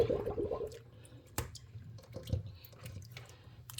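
Freshly bought seafood being washed and cleaned by hand in water, soft close squishing, splashes and drips with irregular handling knocks, fairly quiet and without talk.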